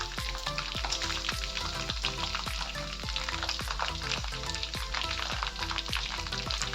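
Chicken fries in hot oil, giving a constant loud sizzle and crackle. Regular scraping thumps of a utensil stirring the pan cut through it.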